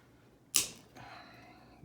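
A single sharp snip as the arm of a plastic miniature is cut off, a quick crisp click followed by a faint, fading scrape, close and alone.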